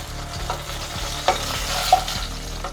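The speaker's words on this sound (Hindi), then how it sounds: "थोड़ा सा तेल में ही फ्राई करके ले रहे हैं।" Eggplant fries in a little oil in a pan, a close, steady sizzle broken by stirring scrapes and occasional clicks of a utensil.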